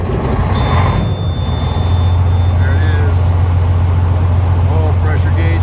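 A Ford LT truck engine cold starts and settles into a loud, steady low idle rumble, with faint beeps and a brief voice over the running engine.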